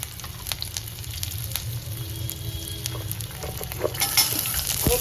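Garlic and chopped ginger frying in oil for a Marathi stuffed brinjal dish, a steady close sizzle with low rumbling and occasional utensil scrapes and stirring clicks throughout, no talking.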